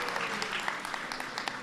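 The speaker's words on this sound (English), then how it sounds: "let's give a big round of applause to our musical guests" Applause from a crowd at a White House Hanukkah reception for the musical guests, steady and moderately loud, with scattered individual claps standing out across the short stretch.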